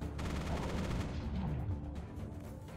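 Gunfire in the mech strategy video game Mech Armada, a dense continuous rumble of rapid shots and booms, steady and moderately loud throughout.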